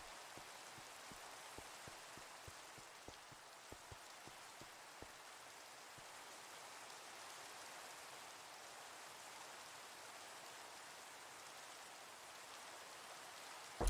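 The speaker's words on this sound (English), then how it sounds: "I find it hard to see when it rains." Rain falls in a video game as a faint, even hiss lasting throughout, with a scatter of sharp droplet ticks in the first few seconds.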